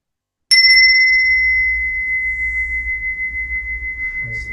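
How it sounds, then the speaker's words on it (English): A meditation bell during guided breathwork strikes once, loud and close, then rings on as a pure sustained tone that slowly fades and wavers, with no talking. "As the bell vibrates through your body, I want you to slowly feel yourself slipping back in."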